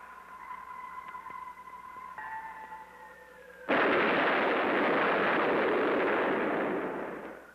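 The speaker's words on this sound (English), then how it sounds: "Blast him with every available battery." An artillery battery opens fire in a 1964 science-fiction film. A steady tonal hum gives way to a sudden massive roaring blast that sustains loudly for several seconds before beginning to fade.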